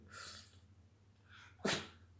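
A dog sneezes on command: one sharp, close sneeze burst near the end, after fainter breathy snorts, over a low steady room hum.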